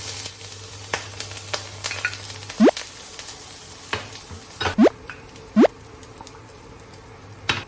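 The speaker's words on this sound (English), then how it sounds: "Stir fry ingredients until fragrant." Ingredients stir-fried in a pan, a light continuous sizzle with scattered sharp clicks and a few rising scraping strokes of the utensil, close by and without speech.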